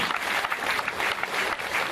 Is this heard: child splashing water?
no